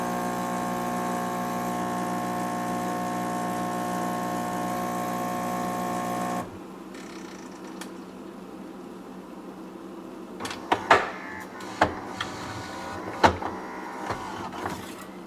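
A Gaggia Brera super-automatic espresso machine brewing coffee: a steady, loud mechanical pump drone that stops abruptly partway through, followed by quieter dripping, clicks and a few sharp clinks.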